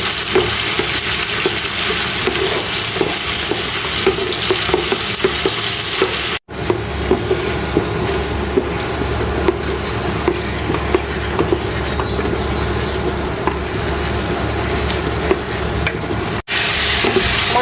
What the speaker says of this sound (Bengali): মশলাটা সুন্দর মতো কষানো হয়ে গেছে